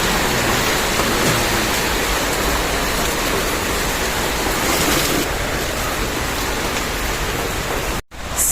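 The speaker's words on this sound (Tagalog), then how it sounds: "Umuulan sa labas." Steady rain pours outside a small neighborhood sari-sari store in a sudden shower, a dense, even hiss that holds throughout with no voices, briefly cutting out near the end.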